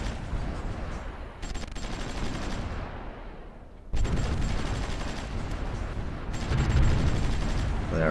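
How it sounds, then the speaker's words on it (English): Artillery fire in a Supreme Ruler Ultimate strategy game rumbles as a dense, continuous barrage of distant booms and crackling shots, swelling and dropping in loudness over several seconds. "the artillery is doing a lot of job in there"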